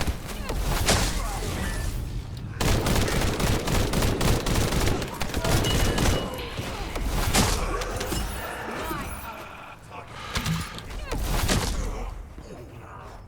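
Rapid gunfire in The First Descendant video game, sustained bursts of shots and impacts over about thirteen seconds, loud and busy, briefly thinning near the middle before resuming, with a player talking over it.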